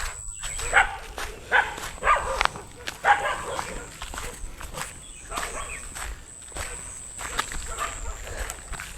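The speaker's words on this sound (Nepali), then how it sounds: "कुकुरहरूले मलाई भुक्न थाले त्यो बजाको देखेर।" Village dogs bark at scattered moments beside a river, under a person talking, with rustling steps nearby.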